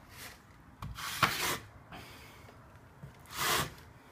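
A trowel drags across tile mastic in short rasping strokes, three soft bursts spaced apart with quiet gaps between them, close and fairly faint.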